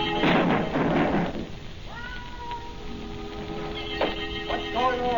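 A cat sound effect from an old radio drama: several meows, some drawn out and rising, come through after a burst of rain-like noise, heard close and moderately loud with no speech.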